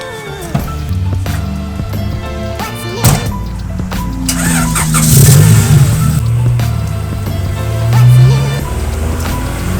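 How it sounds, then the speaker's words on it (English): A car drives to a gas station, its engine droning steadily with road rumble, a couple of brief knocks and a swell of louder engine noise near the middle and end, with no talking. "we're going to hop in the car, head over to the gas station"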